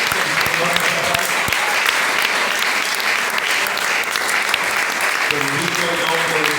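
Church congregation applauding during a Spanish-language worship service, sustained dense clapping filling the room at steady loudness, with faint voices mixed in beneath it.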